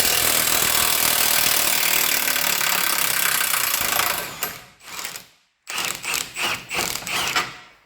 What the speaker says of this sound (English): Not tighter than a Milwaukee high torque can handle, but the mid torque, no chance.